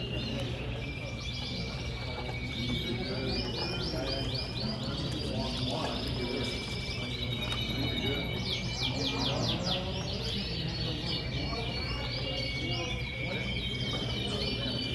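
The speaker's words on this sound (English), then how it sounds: "Very nice looking melanine birds." Melanin canaries, red, black, frosted and non-frosted birds, chirping and trilling at a canary show in Miami, with repeated high twittering bursts over a steady hall hum and background voices.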